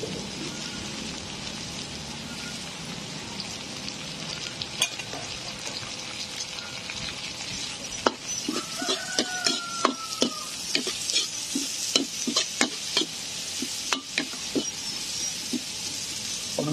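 Onions sauté in a hot pan over a wood fire for red chicken tinola, a dense steady sizzle with clattering stirs and scrapes growing busier in the second half, no talking.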